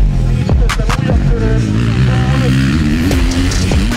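A small racing motorcycle engine at a race, loud and close, with a continuous buzzing drone and shifting revs as the pitch climbs and drops. Other machines blend into the roar.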